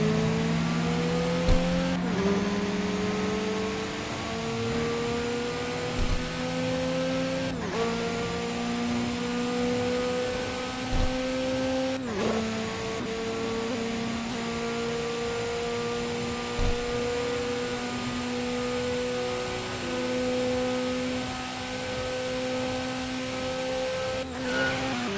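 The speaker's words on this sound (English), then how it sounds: "There you go, drifting. And that's how you drift." A car drifting in a video game, a steady engine hum shifting pitch in repeated rising gear sweeps, with brief clicks, continuous and fairly loud, with no voices.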